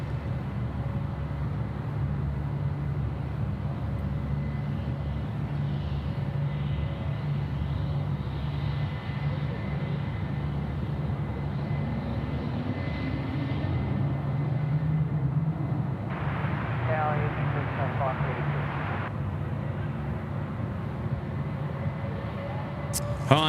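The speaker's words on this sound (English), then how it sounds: "Sydney to Haikau is departing now at the 330-300." A Hainan Airlines Airbus A330-300 departing Sydney Airport gives a sustained, distant roar of jet engines that swells over time, with voices talking faintly underneath.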